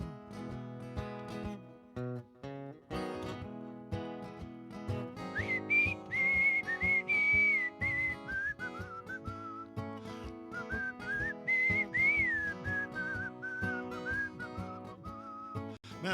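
A man on stage at a folk music festival whistles a melodic tune over guitar accompaniment, the whistle clear and sustained with smooth pitch slides.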